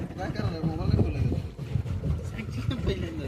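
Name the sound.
boat moving on dam water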